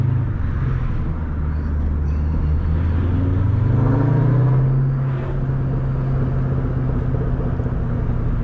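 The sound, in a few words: 500hp Ford Mustang Cobra Terminator downshifting while driving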